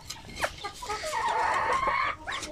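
Sampin native chickens clucking close by, a run of soft throaty clucks swelling into a longer drawn-out call, then a few short clucks at the end.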